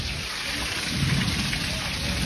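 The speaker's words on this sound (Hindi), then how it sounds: "आज पूर्णिया डिस्ट्रिक्ट में बहुत ही ज्यादा बारिश हो रही है।" Heavy rain pours down steadily and loudly in Purnia district, India, with a low rumble of thunder rolling underneath midway through.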